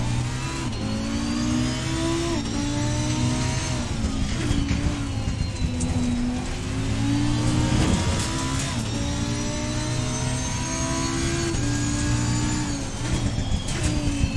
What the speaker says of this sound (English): Lamborghini sounds amazing.